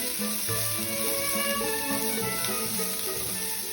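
Onion frying in a pan, a steady dense sizzle with a broad hiss running throughout, fairly close and even, with faint tonal kitchen background beneath.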